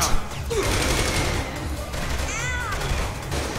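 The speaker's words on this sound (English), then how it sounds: "Why the fuck do you have laser guns?" Laser guns fire in the Saints Row 3 video game, a rapid volley of zapping shots with sweeping, warbling electronic tones rising over a steady backdrop of game noise.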